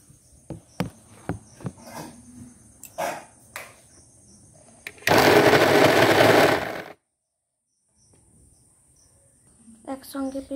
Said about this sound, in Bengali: মিক্সিতে তো বাটা হয়ে গেছে